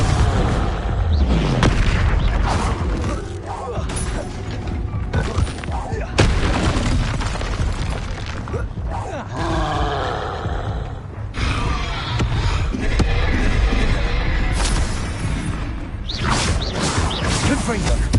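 Spells cast in Hogwarts Legacy, including fire and blasting spells, erupt as a dense, continuous barrage of booming explosive impacts and whooshing bursts, loud and layered throughout with game combat noise.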